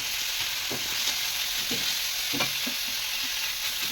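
Ginger and garlic fry in a pan for chicken momo filling, a constant hissing sizzle with several soft stirring scrapes spaced through it, close and steady, with no voices.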